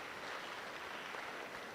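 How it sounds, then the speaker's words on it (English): Steady, dense applause from a DevFest 2021 tech-talk audience, sustained clapping at even loudness with no speech over it. "Another round of applause for our speaker, you guys."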